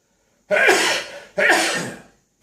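Two sneezes in quick succession, loud and close, each a sharp burst trailing off, with silence before and after.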